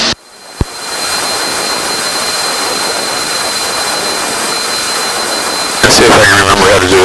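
Twin-engine Cessna 340 engines drone in flight, a loud, steady cabin roar that runs throughout, with a voice breaking in near the end.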